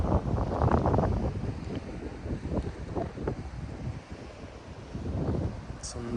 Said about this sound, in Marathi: शांतता निसर्ग आणि समुद्र समुद्राचा आवाज